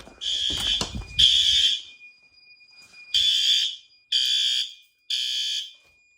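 A fire alarm horn strobe sounds during a building alarm test, giving five loud, close, shrill horn blasts of about a second each, separated by short gaps, with a brief low thump near the start.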